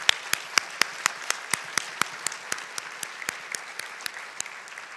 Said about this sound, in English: one more round of applause for all of our finalists tonight